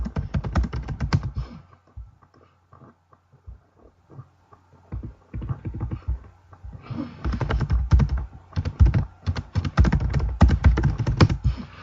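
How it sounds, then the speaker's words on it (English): Loud, rapid typing on a computer keyboard, with dense clattering keystrokes that thin out briefly in the middle before resuming in fast, uneven bursts; no talking. "I type really loud."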